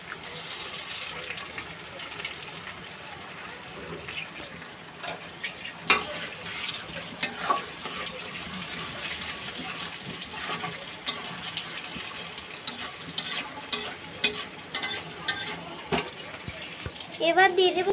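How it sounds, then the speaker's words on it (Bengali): An egg frying in a pan for a noodle dish gives a soft continuous sizzle with scattered clicks and scraping taps, ending in a louder burst of crackling. "এবার দিচ্ছি ডিম।"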